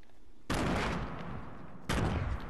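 Gunfire in the Fortnite video game comes in two short rattling bursts about a second and a half apart, fairly quiet and without talking.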